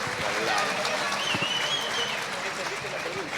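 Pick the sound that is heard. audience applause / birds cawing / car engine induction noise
audience applause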